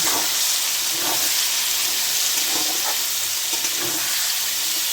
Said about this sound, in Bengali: এখানে পেঁয়াজটা ভাজছি